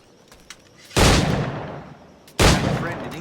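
Two loud gunshots from a firearm in Assassin's Creed IV Black Flag, about a second and a half apart, each a sharp broadband blast with a trailing decay over faint game background.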